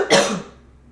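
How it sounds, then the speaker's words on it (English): A single hard, forceful cough bursts out near the start, sharp and close, then trails off into near silence. "I just coughed so hard I blew out my white candle."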